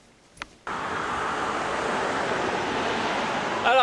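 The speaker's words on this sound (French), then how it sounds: "il y a beaucoup de vent, il y a beaucoup de voitures qui passent" Strong wind roars steadily across a microphone outdoors, a broad rushing noise that starts abruptly after a short quiet moment and holds loud throughout, with traffic noise blended underneath.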